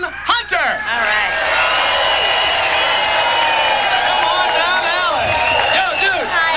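A live studio audience at a Labor Day 1990 Fox stunt show cheers, whoops and applauds loudly, a dense roar of clapping and shouting voices that swells and carries on throughout.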